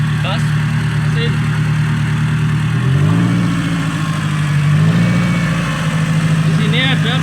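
Car engine revved during an under-lift inspection for oil leaks, a steady idle rising in two short revs, loud and close, with someone talking over it.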